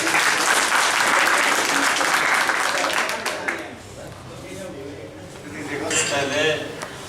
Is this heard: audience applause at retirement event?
yes